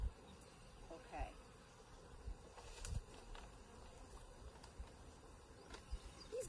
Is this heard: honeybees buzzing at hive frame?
yes